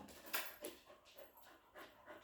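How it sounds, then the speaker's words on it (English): A pet dog, Oliver, pants and gives soft whimpers indoors, a few quiet breathy bursts recurring at an irregular pace, close but faint with no talk over them. "it sounds like my dog's up here"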